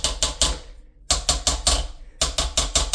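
A toilet brush tapped around the rim of a bowl to knock off water, crisp hard clacks in quick bursts of three or four, separated by short pauses, close and loud.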